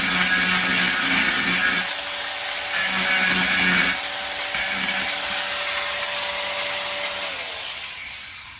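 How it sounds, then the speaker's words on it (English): A Merlin 2 small angle grinder fitted with a rough saw blade cuts into wood on a segmented turned vase, a loud continuous whining grind with brief dips as the blade bites, close and steady throughout. "I just take that off with a little grinder"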